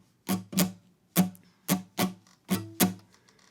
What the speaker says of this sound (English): The pattern with strings muted would sound like this.